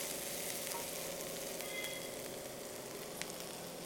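Finely chopped small onions fry in a pan for country chicken rasam, a steady close sizzle throughout with faint crackles and no talking.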